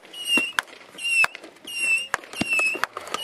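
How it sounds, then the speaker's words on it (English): Consumer fireworks cakes and rockets at a Fourth of July display: repeated rising whistles, each cut by sharp crackling pops and bangs, coming in quick bursts at moderate distance. "And that's all those cakes and the rockets."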